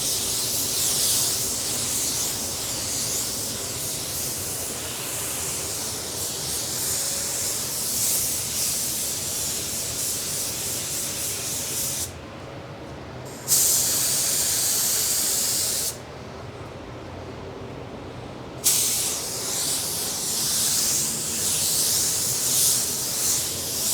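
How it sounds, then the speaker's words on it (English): Spray gun hissing as it lays a thin, even coat of Axalta 300 adhesion promoter onto a raw plastic bumper, long steady bursts broken by two short pauses, close and loud with no talk. "It really doesn't matter which gun you use, you just want a nice, thin, even, uniform coat."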